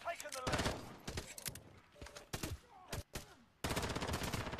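Gunfire in a video game comes in rapid automatic bursts, loud and close, with short pauses between volleys and a long sustained burst at the end, while players talk over it.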